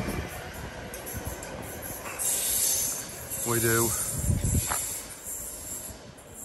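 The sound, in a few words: train at a station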